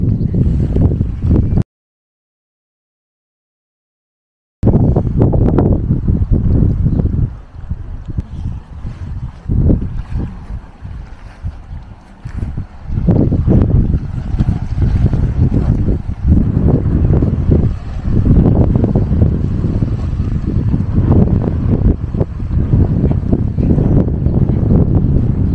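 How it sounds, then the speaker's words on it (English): Steady breeze buffets the microphone at a Portsoy seaside loch on a mild morning, a continuous low rumble of gusts swelling and easing, broken once by a brief dropout, with no talk heard. "Blowing in the breeze. It's breezy this morning"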